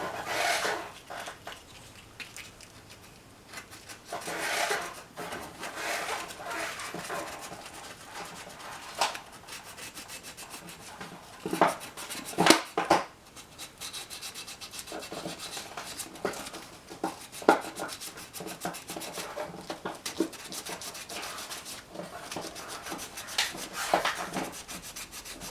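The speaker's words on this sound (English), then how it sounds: "go back to your regular old handheld sandpaper" Handheld sandpaper rubs over a carved seashell bowl rim, smoothing it down in repeated scratchy strokes of uneven strength, close and fairly quiet, with a few sharper, louder passes.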